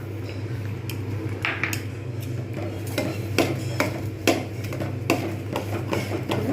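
A spoon clinks and scrapes against a pot while date palm jaggery payesh is stirred, sharp irregular metallic taps recurring every half second or so over a low steady hum.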